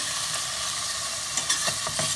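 Salmon cubes frying in olive oil in a preheated skillet, a dense steady sizzle with a few faint spatters and stirring bumps toward the end.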